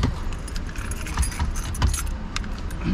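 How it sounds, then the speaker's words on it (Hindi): Car keys jingle and clink close by as a key goes into the ignition of a car fitted with a cheap 10.1-inch touchscreen Android stereo, with irregular metallic rattles over steady low background rumble. "भाई चाबी लगाना"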